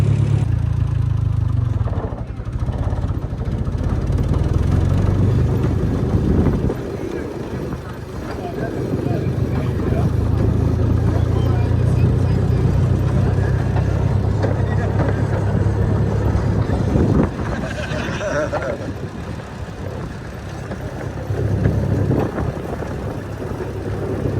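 Small motor of a railroad track speeder running along the rails of the Lowville and Beaver River Railroad, a steady loud engine drone with rumbling track noise that shifts in pitch, and a person speaking over it at times.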